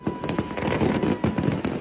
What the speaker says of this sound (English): Authorities say it happened after an illegal fireworks display in Honolulu ignited.